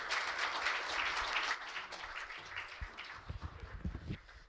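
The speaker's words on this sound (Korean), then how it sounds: "박수로 맞이해 주십시오." Audience applause welcoming a speaker at a logistics CEO breakfast forum, a moderate wash of clapping that thins out into a few scattered, closer claps and faint shuffling near the end.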